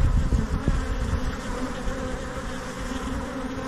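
A honeybee swarm buzzes in a dense, continuous drone, loud and close throughout, with no talking.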